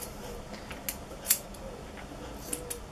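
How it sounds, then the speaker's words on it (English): Thinning scissors snip through a Tibetan Terrier's coat during grooming: about four quiet, sharp metallic clicks at irregular intervals, the loudest in the middle, over a soft steady background with no talk. "you never put thinner scissors where the root is"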